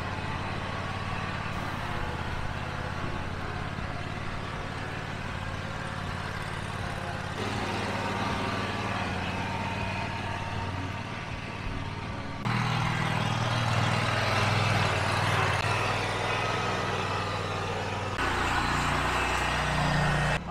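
A riding lawn mower drives around with its blades off, and its engine drones steadily and fairly close for the whole stretch, with a few shifts in tone as it turns.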